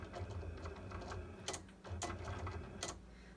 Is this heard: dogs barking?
no